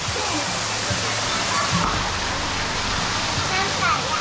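A waterfall at a dinosaur-themed park in Nong Bua Lam Phu, Thailand, roars in a steady, dense rush without pause, close and fairly loud, while voices murmur beneath it.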